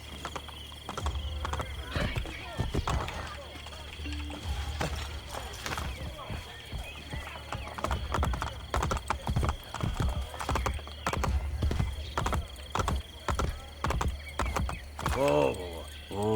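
Horse hooves clip-clop in a steady rhythm in Assassin's Creed Brotherhood while game sound effects play, with a whinny near the end and a voice talking at times.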